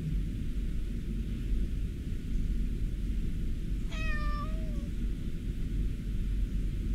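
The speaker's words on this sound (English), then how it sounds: "This cat is getting petted by Alpaca." A cat gives a single clear meow while an alpaca pets it, heard over a steady low rumbling background noise with no talk.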